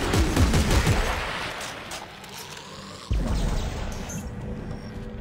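Gunfire in the co-op sci-fi horror game Dead Space 3: a rapid burst of shots at the start, a sudden loud blast near the middle, and continued rumbling game action, close and loud.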